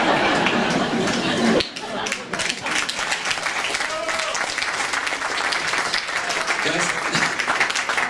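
A comedy club audience applauds loudly, dense clapping that dips briefly and then rises again and carries on, with scattered cheers and crowd chatter mixed in.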